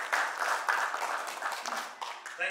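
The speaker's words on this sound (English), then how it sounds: "Let's give them a big applause." An audience at a business appreciation night applauds sponsors, a moderate wash of clapping that swells and thins, with a voice starting to speak at the end.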